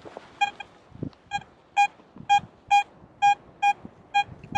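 Vista X metal detector with a 14-inch search coil gives a series of about nine clear, repeated electronic beep pulses in a steady rhythm, each short and tonal, with faint low rustling between them.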